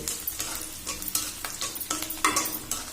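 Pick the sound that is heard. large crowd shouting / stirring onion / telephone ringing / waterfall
stirring onion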